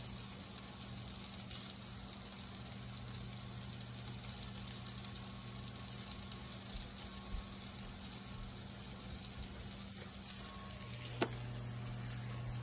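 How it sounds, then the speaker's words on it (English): Vegan burger patties sizzle and fry steadily in a hot pan for the whole stretch, a constant crackling hiss at moderate level with no talk over it. "While the other side of the meat is browning"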